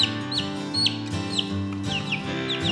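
A one-week-old Cornish Cross broiler chick gives repeated high, short peeps and clucks while it is weighed, over a steady low hum in the background.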